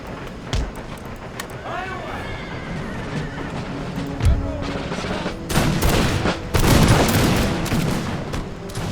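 Dense crackling musket volleys from dismounted dragoons in a battle line in Empire: Total War's American Revolution mod, rolling loudly in the second half after a horse whinnies and hooves clip-clop, with voices underneath.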